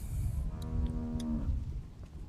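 Cow in The Walking Dead video game gives a single drawn-out moo lasting about a second, moderately loud over low background rumble.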